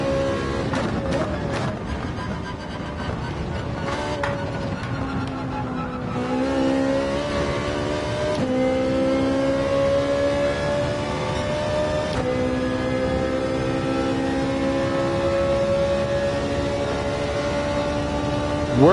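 A race car engine in Gran Turismo 7 on the Daytona road course revs hard through the gears, its whining pitch climbing and dropping at each shift as a continuous loud drone, with a voice talking faintly underneath.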